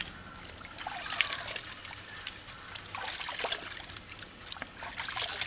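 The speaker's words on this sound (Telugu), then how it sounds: "కలిపి చెట్లకు పోసేస్తా" Diluted sour buttermilk mixed with water pours and trickles onto garden plants, a steady splashing dribble close by with brief pauses, with no talking.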